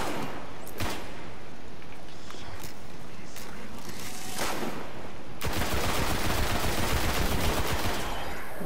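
Continuous gunfire in the shooter game Destiny, loud and dense throughout, swelling into a heavier sustained burst in the second half; a few brief voice fragments sit faintly underneath.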